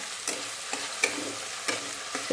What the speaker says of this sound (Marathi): आता यामध्ये घालूयात ही जी मिरच्या घेतल्या होत्या यामध्ये घालू आणि छान अशा परतून घेऊयात एक मिनिटभर